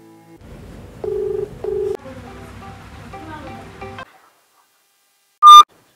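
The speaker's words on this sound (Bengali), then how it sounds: "দেখি একটু ফোন করি।" Someone places a call on a phone: a couple of keypad beeps, then a low steady ringing tone, silence, and one loud short electronic beep at the end.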